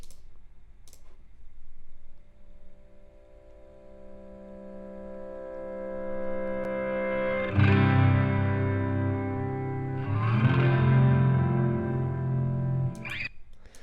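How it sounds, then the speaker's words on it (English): A guitar chord played in reverse, its sustained notes swelling up and cutting off abruptly, followed by a second, fuller reversed swell. "starts out pretty slow with a reverse guitar that is just a chord put in reverse."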